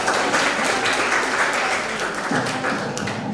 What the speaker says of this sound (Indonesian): Tepuk tangan sekali lagi untuk anak-anak.